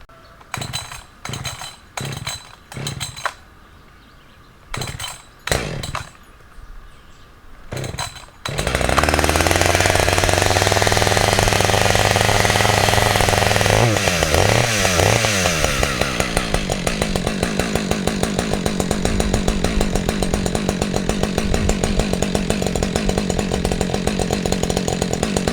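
A Husqvarna 555 chainsaw after a tune-up: several short, sharp clanks and knocks, then the engine starts and roars loud and close at a steady high rev, with a brief dip in pitch midway before holding at full throttle.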